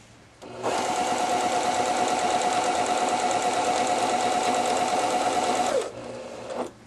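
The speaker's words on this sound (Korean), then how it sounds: "스티치 땀 길이 3에 놓고 박음질을 해보겠습니다" A 3210/3230 model sewing machine runs a straight stitch at length 3, a loud steady close whirring hum with rapid needle clatter for about five seconds before slowing and stopping with a final click.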